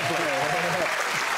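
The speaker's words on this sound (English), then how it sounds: "You're clapping, but that's not got a definite end." Clapping from a studio audience on a television panel show, a dense steady patter heard throughout and mixed with voices, ending abruptly rather than fading away.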